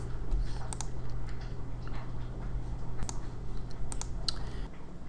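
Typing on a computer keyboard, a quick run of small scattered clicks under a low steady hum, close by and fairly quiet.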